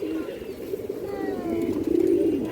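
Low, throaty coos roll from a pair of Jabra high-flyer pigeons nearby, steady and overlapping, growing slightly louder toward the end.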